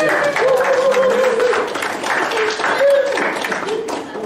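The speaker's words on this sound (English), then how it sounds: "Give us a round of applause, you." Wedding guests clap for the bridesmaid, a warm ripple of applause with voices talking and calling out over the top throughout.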